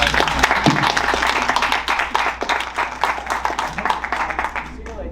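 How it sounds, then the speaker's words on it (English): An audience applauds panelists at a program honoring Japanese American lawyers, a dense sustained clatter of many hands, with talk heard over it. "Let's give a round of applause to everybody."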